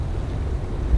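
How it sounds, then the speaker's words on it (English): Steady, blustery roar of wind and surf at a Pacific coast ferry terminal, with low rumbling wash close to the microphone and no voices. "This is the ferry terminal we took on the Pacific Coast tour."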